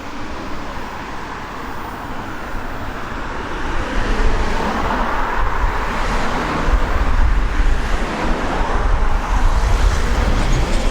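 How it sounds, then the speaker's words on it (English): A bus passing along a busy road near Blackpool, a rising low engine rumble and tyre roar that swells midway and stays loud amid steady traffic noise. "Oh look, now there's that bus I caught up here"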